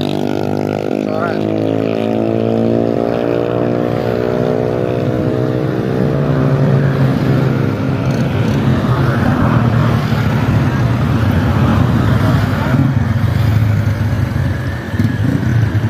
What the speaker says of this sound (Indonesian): Terlihat mesin molen sedang mengeluarkan